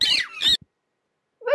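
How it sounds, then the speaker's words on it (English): Parakeets screech in harsh, shrill bursts, two rapid calls followed by a short pause and a third, loud and close. "Screeching of parakeets."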